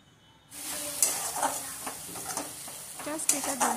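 Spatula stirring and frying masala with tomato puree in a pan, a close continuous sizzle broken by repeated scraping strokes that start abruptly after a short quiet moment.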